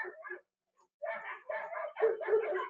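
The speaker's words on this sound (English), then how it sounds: "this is what it sounds like with barking dogs going on in the background" Dogs bark repeatedly in the background behind a headset microphone, a few short bursts followed by a longer, denser run of barking at moderate level.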